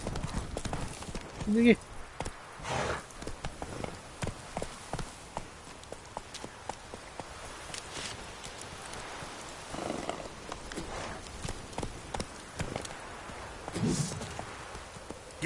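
Horse hooves clip-clop steadily in The Witcher 3 as the horse rides along, a dense rhythmic patter under game ambience while someone talks briefly over it.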